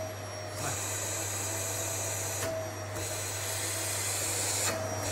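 A household vacuum cleaner machine runs with a continuous steady drone and whine, with a few brief louder bursts over a constant hum, no talking.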